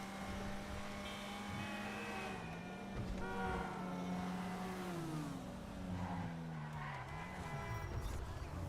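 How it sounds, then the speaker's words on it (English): In a racing video game, car tyres squeal in long sliding whines over a droning engine note that rises and falls, moderately loud and continuous. "But listen to the tire squeal."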